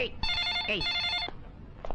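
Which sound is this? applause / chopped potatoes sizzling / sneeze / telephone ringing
telephone ringing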